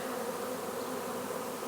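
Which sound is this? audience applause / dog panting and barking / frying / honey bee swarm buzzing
honey bee swarm buzzing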